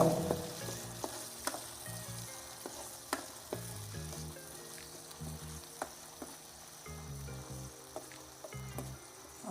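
Onion paste for a hill-goat mutton curry fries in oil with a steady sizzle, broken by sharp clicks of stirring, close by and fairly quiet with no talking.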